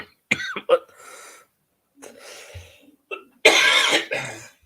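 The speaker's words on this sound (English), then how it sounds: "I cannot shake this cough" A person coughs several times in short, harsh bursts, close to the microphone, with a longer and louder final coughing fit.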